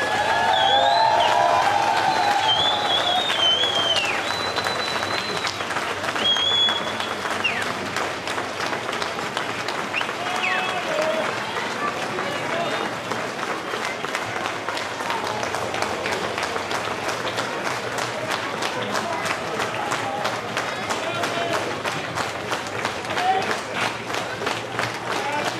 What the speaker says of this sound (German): Der Applaus gilt auch unserer Leiche.